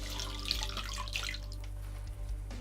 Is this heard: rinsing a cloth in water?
yes